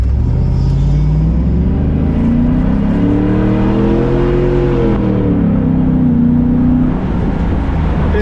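A Chevy SSR convertible V8 truck revs up close, its deep rumbling exhaust rising in pitch, holding, then settling back down, loud and alone.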